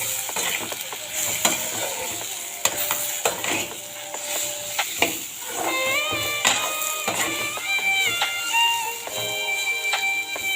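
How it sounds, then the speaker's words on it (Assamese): Sliced okra (bhendi) is stirred and fried in a pan for a crispy Assamese bhendi fry, with steady sizzling and frequent clinks and scrapes of a utensil against the pan. "ভেন্দিখিনি মিক্স কৰি লওঁ"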